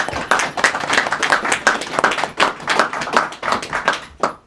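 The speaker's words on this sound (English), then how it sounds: "if you wouldn't mind helping me give a round of applause to George." An audience at a think-tank lecture on the Great Depression gives a speaker a round of applause, close, sharp individual claps from a modest crowd with uneven rhythm that thins out toward the end.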